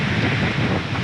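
Steady, broad wind roar from Hurricane Ian in The Villages, Florida, buffeting the microphone, with a low rumbling texture that could include distant surf, continuous throughout.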